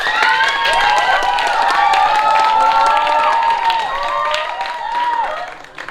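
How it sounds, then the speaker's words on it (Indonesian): Audience clapping for five finalists of a school choir competition, loud sustained applause mixed with high cheering and children's shouts, fading toward the end. "Kita berikan tepuk tangan yang meriah dong untuk kelima finalis lomba paduan suara."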